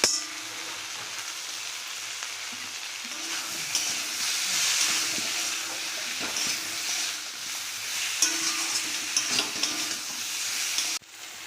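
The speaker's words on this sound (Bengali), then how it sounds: "একটু মশলা দিয়ে কষা হয়ে গেছে দেখো তেল ছেড়ে দিয়েছে" Spices with tomato, turmeric and ground cumin and coriander sautéing in oil in a pan for a fish curry with beans and eggplant, a continuous close sizzle and hiss with occasional stirring scrapes, no voices.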